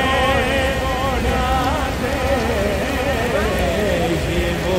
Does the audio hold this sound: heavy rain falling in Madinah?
yes